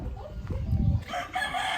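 A rooster crows nearby with a drawn-out, wavering call, followed by rustling and clucking sounds of outdoor farm surroundings.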